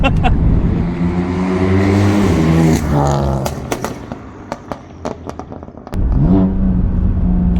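A loud BMW M4 F82 engine revs hard and drops in pitch through successive downshifts, with sharp pops and crackles from the exhaust before it roars again.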